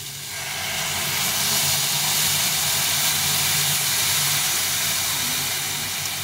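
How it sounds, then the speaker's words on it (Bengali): Mustard water poured into a hot frying pan bursts into a loud, sustained hiss of steam and sizzling that fills the whole stretch close by, alone without any voices. "এখন আমি এই সর্ষের জলটা দিয়ে দেবো"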